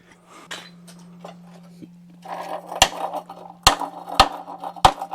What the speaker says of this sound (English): probably gonna need a hammer for that